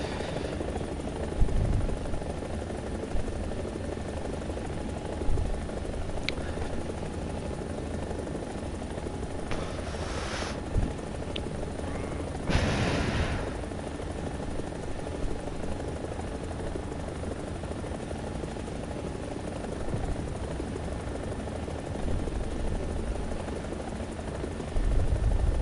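Helicopter from the War Thunder video game flying steadily, with a constant low engine and rotor drone filling the whole stretch and a few brief brighter bursts of game noise near the middle.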